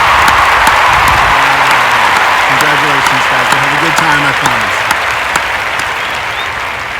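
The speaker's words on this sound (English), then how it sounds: "Round of applause." A round of applause from an elementary school audience at a student and parent gathering fills the stretch with dense, steady clapping, while someone talks over it partway through.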